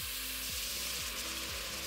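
White wine poured into a hot pan of browned pork, giving a soft, steady sizzle with faint rhythmic scraping underneath.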